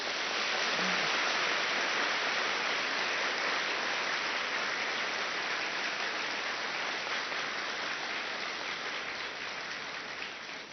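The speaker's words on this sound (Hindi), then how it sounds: "वाह, शाबाश, जोर से ताली तो बजाओ।" An audience at a spiritual gathering claps loudly and continuously, a dense, even patter of many hands that holds steady, then tapers slightly at the end, with no talking over it.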